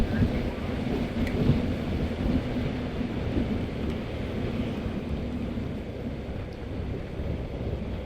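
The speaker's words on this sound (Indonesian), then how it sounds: "Aduh, ini udah rintik-rintik." Steady, continuous hiss of light rain beginning to fall with a low rumble underneath, on a road in Java, Indonesia, even in level from start to finish, with no voices.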